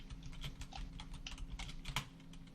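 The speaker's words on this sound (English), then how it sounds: "typing a lot" Rapid, uneven clicks of typing on a computer keyboard, fairly close and moderately loud, with scattered sharper keystrokes and a low background hum throughout.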